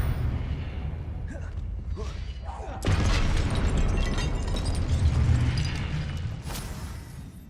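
Spell impacts and blasts from the Confringo explosive spell in Hogwarts Legacy, a loud booming burst near the three-second mark that sustains as rumbling chaos, with a bright crack near the end, all over a constant game soundscape.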